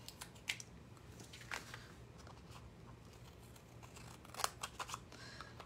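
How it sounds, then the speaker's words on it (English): Scissors trimming excess cardstock pieces while making a greeting card, giving several quiet, scattered snips close by over faint background hiss. "I'm gonna come and just trim off the extras"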